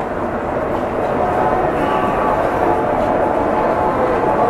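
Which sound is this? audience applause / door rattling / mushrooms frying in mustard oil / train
train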